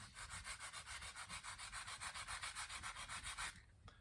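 Rhythmic back-and-forth rubbing of 220-grit sandpaper across the fret ends of a hand-built cigar box guitar, about twenty steady close strokes that stop near the end.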